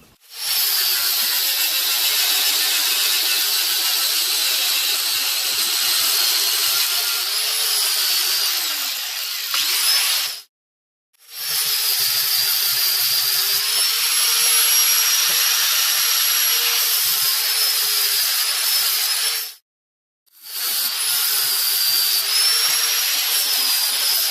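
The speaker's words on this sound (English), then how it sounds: "I'm going to grind that off." An angle grinder whines steadily as it grinds excess weld off a butcher knife handle repair, loud and close in three long passes separated by brief pauses, with no talking.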